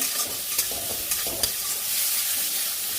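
Garlic frying in hot oil in a pan, a continuous bright sizzle with a few sharp spoon taps and stirring scrapes, close and alone.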